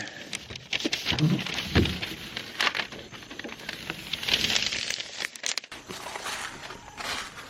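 Fibre-reinforced tape is pulled and pressed along shed sheathing seams, giving close, irregular crinkling and crackling with a few heavier rubbing thumps, and no voices.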